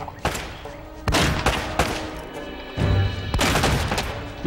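Shotgun blasts in the video game Uncharted: Drake's Fortune, four or five loud booming shots spaced irregularly with rumbling tails, heard up close.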